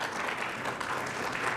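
Applause from an audience at a mentoring program orientation: a steady, even wash of many hands clapping, moderately loud and continuous with no voices over it.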